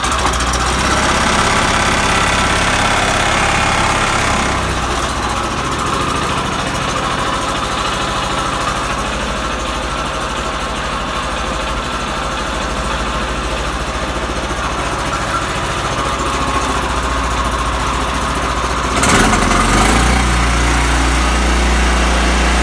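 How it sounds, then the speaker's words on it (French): A Yamaha YS828 snowblower engine runs steadily up close, a loud continuous mechanical drone with a brief rattling burst near the end. "je peux vous starter l'engin pour vous montrer"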